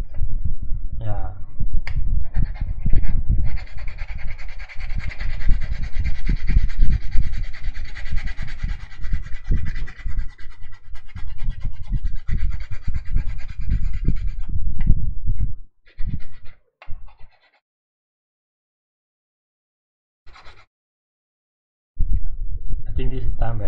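Hand sanding, likely of wood, makes a long stretch of dense, rhythmic rasping strokes up close, with people talking over it, then stops into near silence before a final few scrapes.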